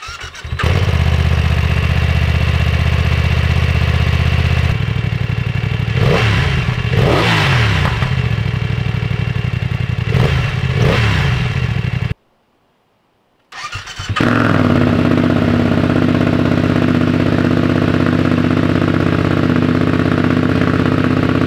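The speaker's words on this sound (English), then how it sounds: "I'm first going to get a startup clip with the Decel Killer and some revs" A loud Yamaha MT/F900R motorcycle with an Arrow Pro race exhaust and DB killer fires up and idles roughly, with a few sharp revs climbing and falling, a brief cutout of silence, then steady idling resumes.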